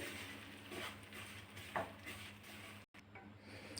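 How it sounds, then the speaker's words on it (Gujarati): Gram flour stirred and roasted in ghee over a low flame: a steady, quiet scraping and faint sizzle with a few soft utensil clinks, then a brief break. "આપણે ચણાનો લોટ લીધો છે એ નાખી દઈશું એમાં અને સરસ મિક્સ કરીને આપણે ધીમા ગેસે શેકવાનું છે"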